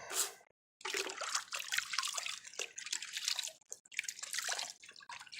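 Water squeezed from a paint brush being cleaned, a close splashing and dripping trickle in uneven bursts with brief pauses, fairly faint and with no talk.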